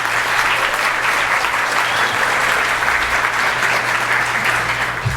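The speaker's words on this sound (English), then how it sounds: "So again, give yourself a big round of applause for that." Full, steady round of applause from the crowd at the EcoCAR 2 award ceremony, a continuous wash of clapping holding level for the whole stretch with no speech over it.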